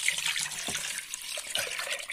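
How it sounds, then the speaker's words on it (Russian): Tap water pours into a soup pot being readied for a light chicken noodle soup, a continuous bright splashing stream with small gurgles, close and fairly loud, no voices. "Теперь нам сюда нужно налить воды."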